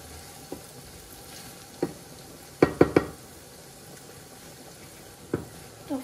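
One and a half large onions with salt cook in a pan, giving scattered clinks and knocks as they are stirred, with a small cluster of sharp taps near the middle over a faint, steady low sizzle.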